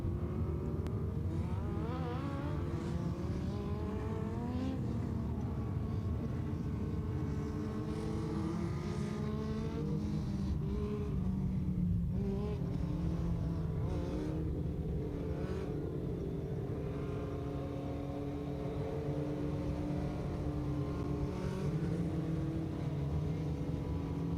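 Dwarf race cars roll around the Tulsa Speedway oval before a heat race, a steady loud engine drone with shifting pitch as several cars circle, continuous with no talk.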